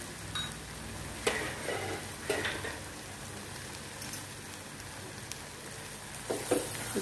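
Konkani kaldi kaleji masala frying in a pan, a steady quiet sizzle broken by a few sharp scraping stirs of a spoon, with no talking.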